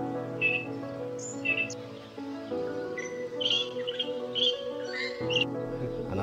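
Greater racket-tailed drongo, a mimic bird, in Parambikulam forest, giving a string of varied chirps and whistled calls, fairly near, over a steady low droning background hum.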